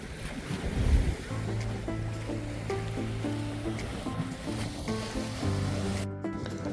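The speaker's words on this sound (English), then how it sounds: "So you can still see the beautiful ocean from here." Ocean surf at a Grand Cayman resort, seen from a height, washes continuously under gusty wind noise on the microphone, with faint steady tones running through the background.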